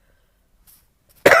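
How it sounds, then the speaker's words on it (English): A single sharp cough bursts out after near silence, loud and close, with a faint breath just before it. "I get this cough"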